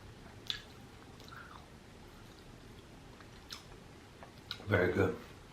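Spicy tuna sushi dipped in soy sauce being chewed close to the mic, with faint, soft, wet chewing clicks and squishes and a brief louder burst of muffled mouth noise near the end.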